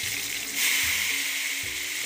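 Dahi vada frying in hot oil, sprinkled with water from the fingers: a loud, close, hissing sizzle that rises briefly as the water hits, then settles into a steady crackling fry.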